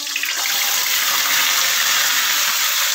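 Vegetables slide into hot oil over spice tempering for a mung dal dish, setting off a loud, even, hissing sizzle that holds steady from start to finish.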